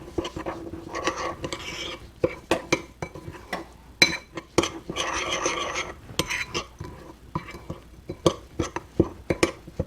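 Butter and breadcrumbs mixed in a bowl for a cauliflower gratin coating: repeated close spoon clinks and scrapes against the bowl in an uneven rhythm, fairly quiet throughout.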